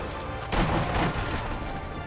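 Automatic gunfire from a machine gunner in the sniper video game Sniper Elite V2, a dense crackling burst lasting about two seconds that swells sharply in the middle, heard alone without talk.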